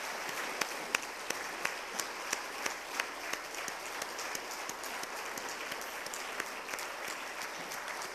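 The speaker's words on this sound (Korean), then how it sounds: "감사와 하나님께 영광의 박수 하겠습니다" A congregation claps steadily throughout a Wednesday church worship service, with a sustained wash of applause and a few sharper individual claps standing out over a moderate distance.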